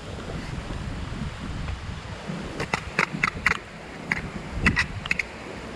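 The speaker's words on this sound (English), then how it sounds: "Pretty rainy, a little windy, but we're going for it." Wind and surf roar steadily on a rainy, windy British Columbia beach, with occasional sharp crackles and buffets of wind against the microphone.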